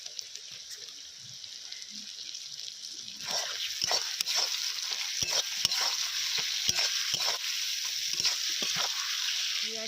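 Tomatoes tumble into a hot frying pan during a family picnic cookout, setting off a loud, steady sizzle with repeated sharp scraping stirs after a quieter opening few seconds.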